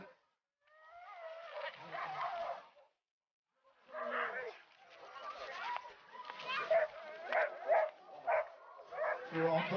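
Sled dogs bark and yip excitedly in bursts at a 2011 dog sled race in Lamotte-Beuvron, with the kick-scooter class running two-dog teams; voices talk among the barking.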